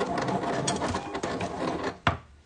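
A Silhouette Cameo cutting machine cutting vinyl, a steady mechanical whirring and rasping with small knocks, ending in a sharp clack, close and fairly quiet.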